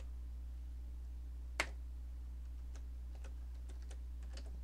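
Sparse keystrokes on a computer keyboard sound faintly, one sharper tap followed by a handful of light clicks, over a constant low electrical hum.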